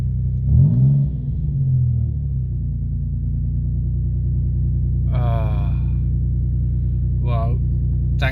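A Nissan Stagea M35 fitted with a new turbo and exhaust idles with a deep, steady rumble after a short rev at the start, while brief voices break in over it.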